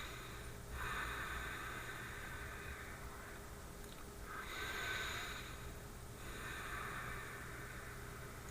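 Slow, deep breaths during a chi-projection exercise with the fingertips: three long, soft breathy swells, each lasting a couple of seconds, close and steady with no talking.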